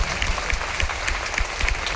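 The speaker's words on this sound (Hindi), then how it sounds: "ताली जोरदार वाली बजा लीजिए।" Loud applause from a seminar audience, dense steady clapping with sharp individual claps standing out throughout, close and continuous without pause.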